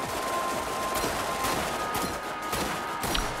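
Continuous gunfire from an ordinary weapon in the video game Borderlands, rapid repeated shots with sharp cracks over steady game noise for a few seconds.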